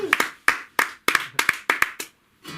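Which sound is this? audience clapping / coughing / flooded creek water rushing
audience clapping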